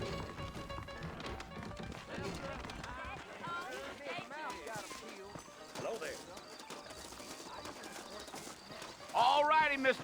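Horse hooves clip-clop steadily in Red Dead Redemption as saddled horses ride out in the Old West, a rhythmic trotting patter with an occasional whinny, heard under characters talking.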